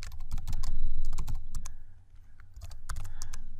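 Rapid clattering keystrokes on a computer keyboard, entering text into a Tkinter desktop program, in irregular bursts close to the mic with a brief pause midway and no talk.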